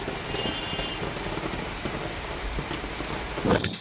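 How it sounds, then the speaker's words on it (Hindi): Heavy monsoon-style rain pours steadily outdoors near a home kitchen, a dense continuous hiss of drops on surfaces with a brief louder splash near the end, no voices. "और अभी भी देख सकते हैं कितनी झमाझम वाली बारिश हो रही है।"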